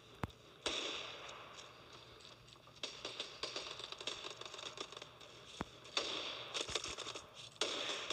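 Rapid gunfire in a CS:GO-style first-person shooter, sharp cracking shots clustered in bursts across the clip, fairly faint and close-up with no talk over it.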